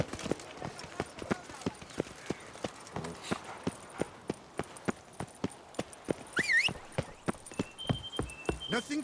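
A horse in the video game The Witcher 3 moves with steady, evenly spaced hoof clip-clops, close and clear, with faint background tones and brief voices toward the end.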